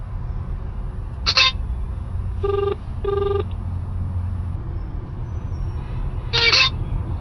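An outgoing phone call rings back with two evenly spaced electronic tones before it is cut off by the other person; brief louder electronic chirps come before and after the tones over a low background hum.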